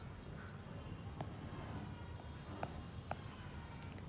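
Writing on a board during a class-12 maths lesson on vectors, faint scratchy strokes with a few sharper taps over a low, steady room hum.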